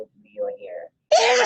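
A single loud sneeze bursts out near the microphone during an online meeting, following a few faint spoken words.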